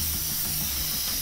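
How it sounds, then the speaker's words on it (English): Spray paint hisses in the inFAMOUS Second Son game, a loud continuous airy spray held steadily for the whole moment with faint low background tones beneath. "It's hard to control the spray paint on Infamous First Light."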